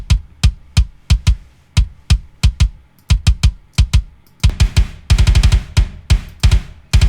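A processed metal kick drum with a very short sustain hits in tight punchy strikes, first spaced out and then in fast double-bass bursts, loud and dry with no other sound.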